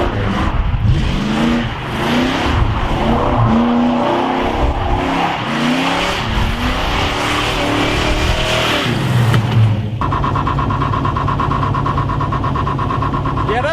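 The Bondo Bandit car revs hard in a burnout, engine wailing through rising and falling pitch, then shifts to a harsher steady roar, loud and close, with people talking over it.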